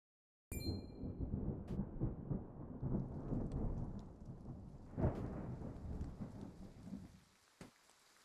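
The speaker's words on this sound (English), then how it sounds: "Honest to goodness, rain." Thunderstorm in the Triangle Strategy video game: a sharp crack of thunder opens a steady wash of heavy rain with rolling rumbles and another thunderclap midway, fading toward the end, with no voices.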